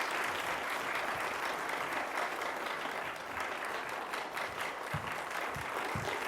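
Audience applause welcoming a speaker to the stage for a missions conference lecture, a steady dense wash of clapping throughout, fairly distant and even, with a few louder claps near the end.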